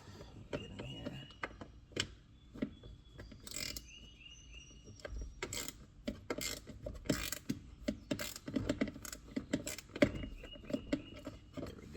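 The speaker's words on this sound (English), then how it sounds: "Let me get my hand ratchet." A hand ratchet clicks in short bursts while loosening a screw holding an Audi S5 B9.5 front door speaker, sharp close ticks and rasps scattered across the quiet stretch.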